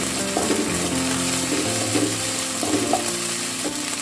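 Garlic, ginger paste, green chillies and bay leaves fry as a masala for potato dal, a loud steady sizzle with intermittent scraping and clicking of a stirring utensil, no talk.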